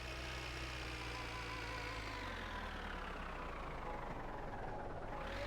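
Tractor engine running in the video game My Winter Car, a steady loud rumbling drone with a low pitch that drifts slightly as the throttle changes.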